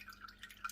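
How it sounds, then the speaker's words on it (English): Liquid drips from pumpkin pulp wrapped up to drain, several faint, quick, delicate drops landing one after another in a quiet room. "I'm just going to let this drain for a few hours until the water quits draining out"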